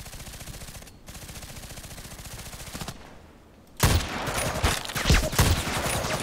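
Gunfire in the online shooter Contract Wars: a rapid stream of automatic shots, then a brief lull, then a louder, denser burst of fire and impacts, with no speech.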